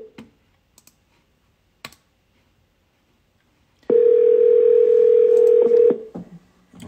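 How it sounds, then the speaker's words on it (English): An outgoing telephone call gives a few soft clicks, then a single steady ringback tone lasting about two seconds, clear and alone before it cuts off. "Let me turn this up and see if this guy picks up the phone."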